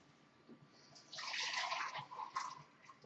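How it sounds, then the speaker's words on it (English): Tap water from a drilled well runs into a container, starting as a soft trickle and swelling into a steady, fairly close gush before tapering with small splashes. "I'm just getting it from the tap."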